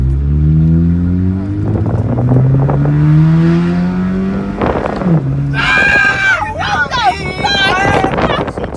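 A girlfriend's car with its muffler just deleted revs loudly, a deep rumbling exhaust note rising and falling for several seconds, followed by excited voices and chatter over the engine.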